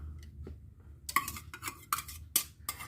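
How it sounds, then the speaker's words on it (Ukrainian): Soft clinks and scrapes of a utensil against a bowl as minced meat is mixed with eggs, a few sharper taps standing out in a quiet room. "І тепер нам треба просто їх змішати."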